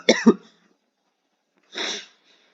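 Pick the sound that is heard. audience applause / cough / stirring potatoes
cough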